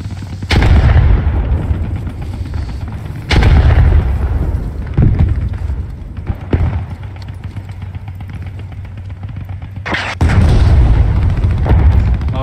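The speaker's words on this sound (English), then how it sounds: "Alright, artillery incoming." Artillery shells burst in a combat video game, a few heavy booming impacts spaced seconds apart, each followed by a rumbling decay, loud and close with no talk over them.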